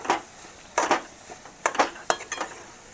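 Corn chevdo ingredients being stirred in a pan, several separate bursts of metal spoon scraping and clinking against the pan with quiet gaps between, close by and without talk.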